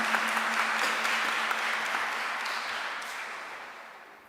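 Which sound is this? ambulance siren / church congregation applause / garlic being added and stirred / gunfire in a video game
church congregation applause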